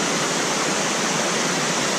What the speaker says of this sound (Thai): น้ำตกวังก้านเหลืองนะครับจังหวัดลพบุรีนะครับ